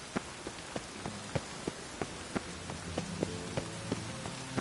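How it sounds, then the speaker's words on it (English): Steady video-game rain patters on a surface, a dense hiss of falling drops with regular sharper ticks and faint thuds running through, close and even throughout, no voices. "Rain like this would fetch a fortune in Zelda."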